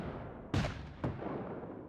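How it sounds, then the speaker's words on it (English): Two booming explosions in a sci-fi aerial battle against aliens over city buildings, a half-second apart, each a sharp blast rolling off into a low rumble over a continuous dull background roar. "Explosions are happening all around me."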